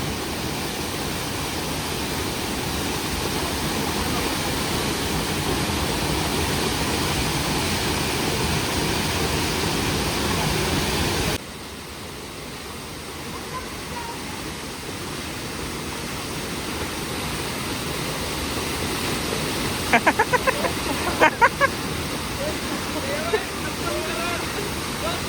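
A waterfall near Manali roars as a steady, loud rush of falling water that runs the whole time. The level dips partway through, and a few faint clicks come late.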